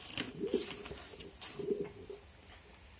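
Pigeons coo softly in a loft, with two low rolling coos about a second apart amid faint fluttering and rustling nearby.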